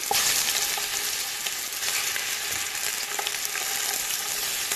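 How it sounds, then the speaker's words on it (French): Chicken drumsticks, cubed and peppered, sizzle in a splash of oil in a cast-iron pot, a steady dense crackle with occasional sharper pops, loud and close with no talking. "dans cette cocotte, j'ai versé une petite larme d'huile à l'intérieur de laquelle je dépose nos pilons cubés et poivrés"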